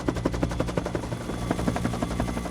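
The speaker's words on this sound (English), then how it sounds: "All of a sudden we hear this helicopter overhead, and it keeps circling around." A helicopter circles overhead, its rotor chopping in a steady rapid thump that stays fairly loud and continuous with no talk.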